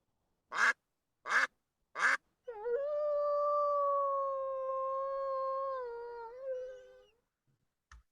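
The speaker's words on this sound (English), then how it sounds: "It was duck and wolf." A duck quacks three times in evenly spaced, clear quacks, followed by a long, steady wolf howl that bends in pitch and fades out, with no talk over them.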